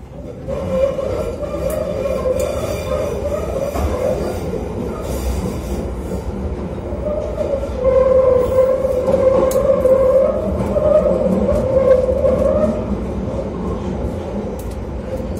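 A London Underground train running between stations, with a steady loud rumble of wheels and carriages, rising squeals and a brighter tonal whine swelling partway through, heard close from inside the car with no talk.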